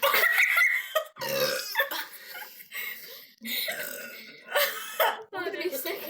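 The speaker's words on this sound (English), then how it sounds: "I burped." Repeated burping from people drinking during a burping challenge, several loud close belches broken up by talk and laughter.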